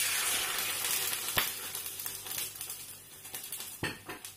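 Softened onion and garlic sizzling in a pan as tomato sauce is poured in, a quiet hiss with a few sharp clinks of a utensil against the pan.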